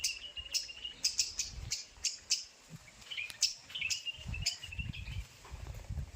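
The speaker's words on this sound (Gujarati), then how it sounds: "ઝાડની અંદર જો ચારે તરફ એટલે મસ્ત મજાના પક્ષી જ પક્ષી છે એમાં બુલબુલ હે કેટલીક પ્રકારના જો આખો દિવસ આમાં અવાજ કરતા હોય" Bulbuls and other birds calling from inside a tree, a run of quick, bright chirps and tweets, fairly faint, with a soft insect trill and low rustling beneath.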